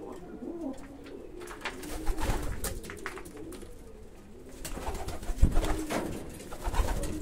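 Jaśniak pigeons coo in soft, repeated throaty calls against a busy background of rustling and faint bird chatter, with louder bursts toward the end.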